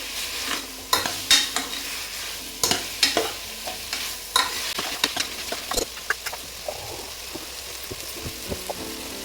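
Washed toor dal frying in hot oil for a ridge gourd sambar, stirred with a spoon: irregular close scraping strokes and clatters over a steady sizzling hiss, no talking.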